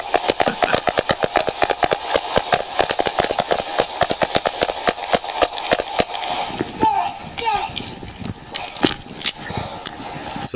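Pistol emptied in rapid succession during a police officer-involved shooting, sharp loud shots fired back to back for several seconds, then thinning to sparser bangs with scuffling and faint background voices.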